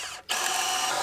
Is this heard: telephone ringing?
no